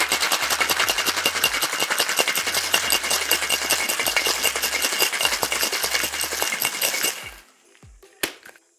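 Ice rattles hard inside a cocktail shaker as a creamy egg-based winter flip is shaken. The rapid, loud, rhythmic clatter runs steadily for about seven seconds, then stops abruptly, followed by one faint clink.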